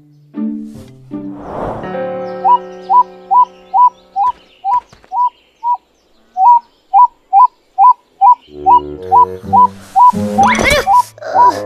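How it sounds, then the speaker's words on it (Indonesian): A cartoon bird repeats a short, bright two-note whistle in a steady rhythm, clear and close, with other sounds briefly around it. "Ada burung pun."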